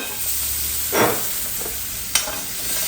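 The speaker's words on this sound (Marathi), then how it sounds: "हे छान मी परतून घेतलं" Turmeric, coriander powder and spices sauté in a pan with a soft steady sizzle, broken by a brief scrape of stirring and a sharp tap partway through, close and without speech.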